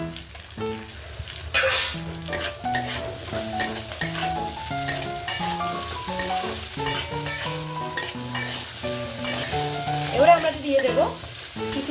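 Two chopped tomatoes added to a hot pan with chopped green chillies for ghugni, frying with a steady sizzle and stirring strokes, while melodic background music plays throughout.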